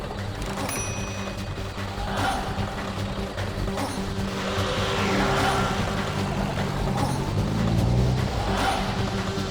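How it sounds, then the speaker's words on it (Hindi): A car engine revs hard as the vehicle reverses and swings around, tires squealing and skidding in loud, rising bursts with no one speaking. "रिवर्स गाड़ी घुमाओ।"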